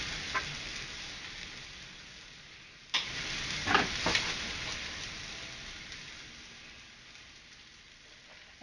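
Bacon sizzles in a frying pan on a home stove, a soft steady crackle and hiss with a few sharper pops and clatters, fairly quiet and with no talking over it.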